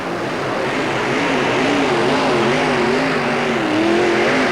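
A 1934 Chevy Coupe hot rod on a pulling run at the Houston Astrodome gives a loud, sustained engine roar whose pitch wavers and climbs slightly. It stays close and steady throughout, with no talk over it.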